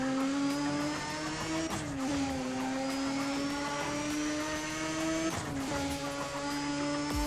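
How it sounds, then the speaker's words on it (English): Mazda RX-8 rotary engine in the racing game Need for Speed: ProStreet, a steady high-pitched droning whine holding nearly constant pitch, with two brief dips as gears shift, loud and continuous throughout. "the RX-8 sounds brilliant"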